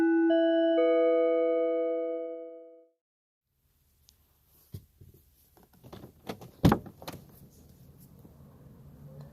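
A sharp thud of a car door shutting across the street outdoors at night, after a sustained chime-like harmonic tone fades, with faint street ambience around it.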